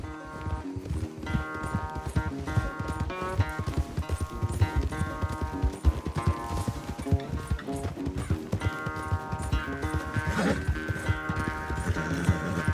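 Horses galloping flat out during a race in the video game Red Dead Redemption 2, a continuous rapid drumming of hooves for the whole stretch, loud and close, layered under steady game music.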